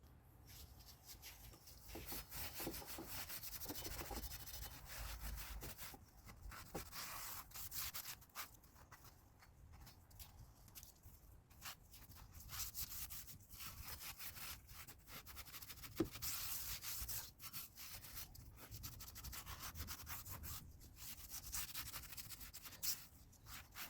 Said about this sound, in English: I'm going to give it a light scuff with the green Scotch pad before applying the primer